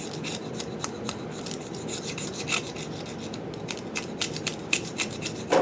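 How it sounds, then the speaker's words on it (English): A blade scrapes glue and plastic residue off an arrow shaft, making rapid, repeated close-up rasping strokes that run steadily throughout with no voices. "Now, after scraping,"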